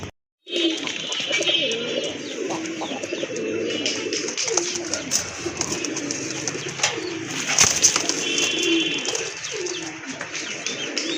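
Native desi breeding pigeons coo repeatedly in soft, low, rolling calls, several birds overlapping close by, with faint chirps and occasional rustling throughout.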